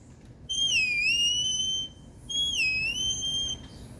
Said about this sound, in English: for Wyatt, I don't like my away whistle.